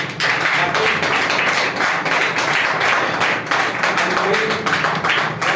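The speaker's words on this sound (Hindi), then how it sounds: "उनके लिए एक बढ़िया जोरदार क्लैपिंग कीजिए" An audience claps steadily and loudly for a company team at a product presentation, a dense continuous patter of many hands lasting the whole stretch with no talk over it.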